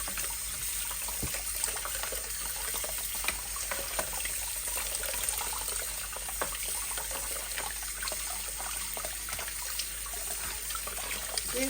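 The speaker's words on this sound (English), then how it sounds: "I run it through some hot water so I can remove the skin" Hot tap water runs steadily over plantains in a kitchen sink, a continuous close splashing trickle.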